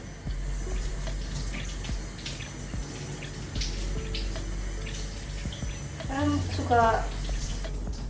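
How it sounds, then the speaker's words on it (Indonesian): Raw eggs are washed before boiling under a running kitchen tap, a steady close stream of splashing water with a brief burst of dripping and handling near the end; a voice is briefly heard. "Sebelum direbus kita harus cuci dulu nih telurnya."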